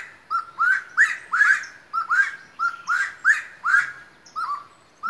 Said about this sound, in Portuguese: Escuta o passarinho cantando parabéns.